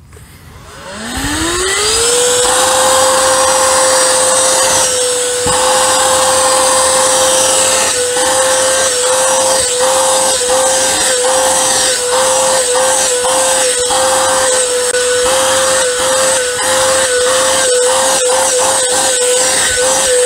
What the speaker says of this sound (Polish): sam odkurzacz i wciągamy te nieczystości